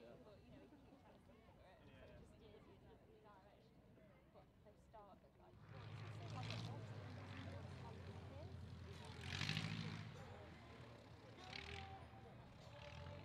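A light propeller aeroplane flies in at the Tatenhill flying display in 2014, its engine drone swelling from distant to moderately loud under a commentator's continuous public-address talk and crowd ambience.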